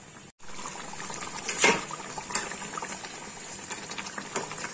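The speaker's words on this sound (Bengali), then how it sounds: "খানিকক্ষণ এটা ফুটুক," Pabda fish simmering in a mustard-poppy seed curry, a steady bubbling and hissing with a brief louder burst of sizzle partway through, close and unbroken, no talk.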